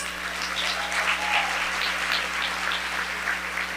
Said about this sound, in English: You can clap for boys.